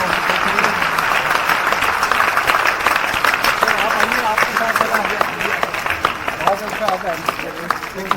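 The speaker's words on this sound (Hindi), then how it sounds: "और तालियों के साथ सर का स्वागत करें।" An audience applauds to welcome a guest speaker at a university alumni meet's cultural evening, the clapping steady and dense throughout with voices talking over it.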